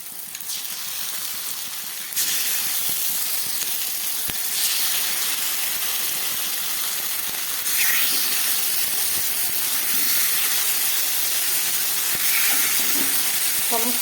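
Marinated fish hits hot oil already frying onion, tomato and green chili, bursting into a loud steady sizzle after a quieter start, with the hiss swelling again as more pieces go in.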